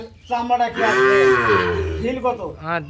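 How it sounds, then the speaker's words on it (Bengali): A Sahiwal bull moos loudly and long, a deep drawn-out bellow that rises and falls, followed by a shorter second low call near the end. "নয়টা গরু নয়টা গরু সব সার বাছুর"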